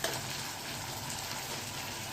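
Spice tempering sizzles in hot oil for a Gujarati garlic cluster-bean and potato curry, a dense, steady crackling hiss that stays loud and close throughout, with no talking.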